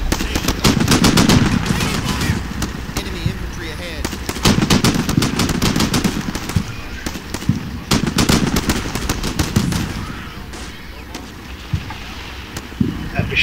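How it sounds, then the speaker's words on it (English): Machine gun fire in the war video game Combat Mission: Shock Force, loud rapid bursts of automatic shots repeating in volleys over a rumbling battlefield background, tapering off near the end. "Machine gun on the right just opened up."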